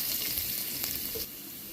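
Garlic and ginger sizzling in hot oil after mustard seeds, a short close burst of steady frying hiss that eases slightly near the end, with no voices.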